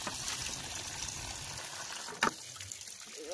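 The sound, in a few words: water filling a bucket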